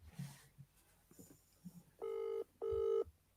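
A telephone ringing tone sounds twice in long, even bursts after soft background shuffling and faint voices, the rings standing out clearly as a call is placed.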